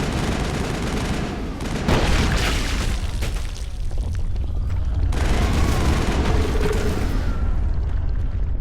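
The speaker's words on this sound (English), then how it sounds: "I wonder what would happen if I threw a grenade at it." Continuous loud booming and crackling gunfire fill the space during a firefight in the video game Mass Effect 1, with a grenade blast rolling into heavy, sustained explosive noise.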